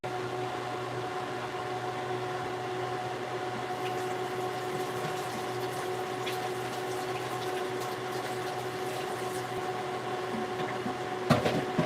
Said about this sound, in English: Okay. Wash my hands again.